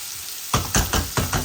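Spices, chillies and a clove of garlic frying in a pan: after a brief quiet moment, five sharp sizzling bursts arrive in a steady rhythm, like stirring, close and fairly loud.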